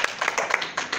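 A church congregation claps during a service, giving a short burst of quick, rhythmic handclaps from several people at moderate distance.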